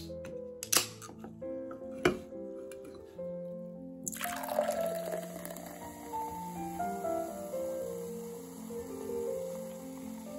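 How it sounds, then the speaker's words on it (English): Soda water from a can fizzes and splashes into a glass, giving faint clinks and a soft pour followed by a sustained, quiet effervescent hiss and crackle of bubbles. "I just poured the soda water here into the glass"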